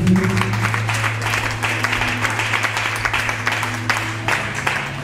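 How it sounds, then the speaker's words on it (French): A congregation applauds during a French-language church service. The clapping is moderate and sustained over a steady low hum, with occasional louder bursts. "Applaudissons très fort pour la parole de Dieu."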